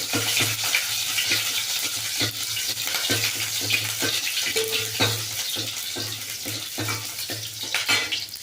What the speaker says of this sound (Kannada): ಒಂಚೂರು ಈರುಳ್ಳಿ ಈರುಳ್ಳಿ ಫ್ರೈ ಆಗಿದೆ